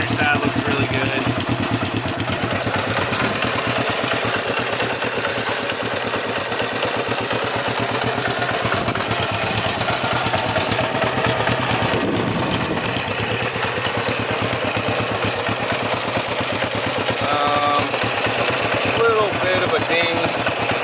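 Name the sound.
1967 CB450 motorcycle engine running after cold start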